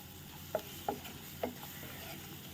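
Chopped onions frying in a pan with salt, Maggi masala and chilli powder, stirred with a few distinct scraping strokes over a low, steady sizzle.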